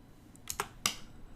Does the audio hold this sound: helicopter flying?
no